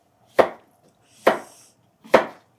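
A knife slicing zucchini into thick rounds on a board, three crisp, evenly spaced chops close up with short pauses between them and no talk.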